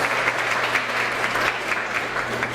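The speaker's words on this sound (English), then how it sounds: "How about another round of applause for Briannette Villa?" An audience at a Massachusetts civic event applauds a singer after her anthem performance, a full sustained round of clapping from many people, close and steady throughout, with no talking.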